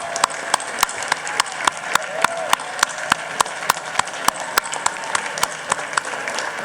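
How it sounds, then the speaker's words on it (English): A room of lawmakers gives a round of applause for an award recipient at a legislative session. The clapping is brisk and evenly spaced, with sharp individual claps standing out and no talking over it. "Can we give him a round of applause,"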